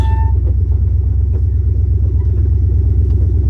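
A 1971 Plymouth Fury that had been abandoned for over twenty years idles close by with a loud, steady, throbbing engine rumble that never lets up.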